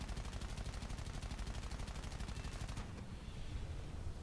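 Many heavy machine guns on a strike aircraft fire in a fast, continuous rattling burst in a War Thunder air battle, loud and dense for nearly three seconds before the firing cuts off into steady engine roar.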